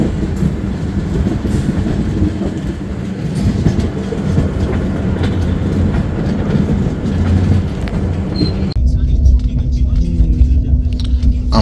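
The Mithila Express rolls along the Howrah line in a loud, continuous rumble heard from on board, with rhythmic clickety-clack of wheels on rail joints, shifting to a deeper, duller roar near the end.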